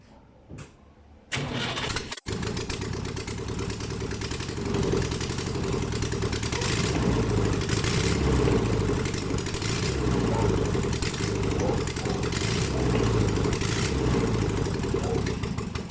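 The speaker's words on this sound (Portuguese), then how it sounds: "Vamos ligar ela ali sem o escapamento." A car engine with its exhaust removed cranks briefly and catches, then settles into a loud, raw, throbbing idle that holds steady close by.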